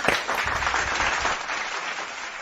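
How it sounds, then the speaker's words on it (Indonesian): Audience applause at a school gathering of the IPM student association at SMA Muhammadiyah 2 Palembang: steady, dense clapping from a crowd that carries through the whole stretch at an even level, with no voices over it. "Tepuk tangan yang meriahnya dulu."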